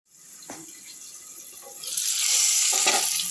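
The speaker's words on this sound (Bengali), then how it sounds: "ফোড়নের সঙ্গে আলুটাকে আমি লাল লাল করে ভেজে নেব।" Potatoes fry with spices in a covered pan, a hissing sizzle that swells louder partway through and holds steady, with a couple of soft knocks and no talking.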